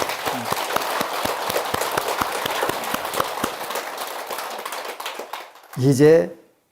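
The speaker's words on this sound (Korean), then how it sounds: "우리 격려 박수 한번 쳐줘요" An audience at a Buddhist dharma talk gives a round of applause, distinct claps in a brisk rhythm that fade out after about five seconds, followed by a short spoken voice.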